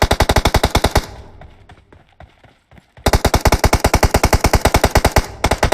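Rapid automatic gunfire from PUBG Mobile rattles in loud, evenly spaced bursts, pausing for about two seconds of quieter shuffling before resuming at full intensity.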